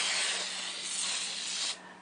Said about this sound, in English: I'm going to spray it again because doesn't quite make it all the way around.